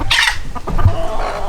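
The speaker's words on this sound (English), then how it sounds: "He's still a very nice rooster" A rooster clucks in a few quick, close, loud bursts among mottled hens in a backyard coop.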